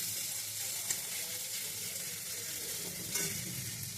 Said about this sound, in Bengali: এই যে চিংড়ি মাছগুলো দেবো।